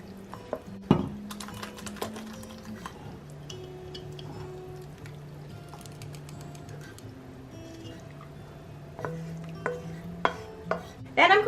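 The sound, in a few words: stirring macaroni into cheese sauce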